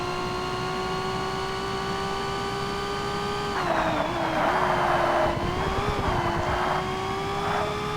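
A high, steady race car engine whine drones continuously in the video game Forza Motorsport, during an endurance race in the R P1 class, with bursts of gritty tire noise and slight pitch dips.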